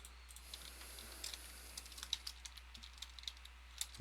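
Quiet typing on a computer keyboard while entering a math expression: soft, irregular key clicks tap out in small clusters over a low steady hum, with no talking.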